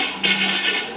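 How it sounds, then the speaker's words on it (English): A household toilet with a leaking base is flushed, giving a brief rushing, gurgling wash of water that holds steady for about a second with no voices. "So let's flush the toilet and ensure that everything goes down"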